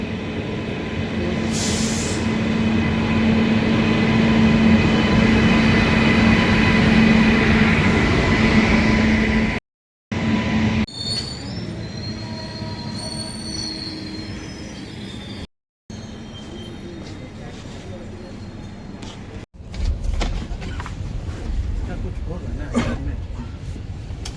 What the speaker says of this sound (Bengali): দেখুন মালগাড়ি এখানে দাঁড়িয়ে আছে ট্রেন আসছে